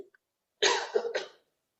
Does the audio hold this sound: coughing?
yes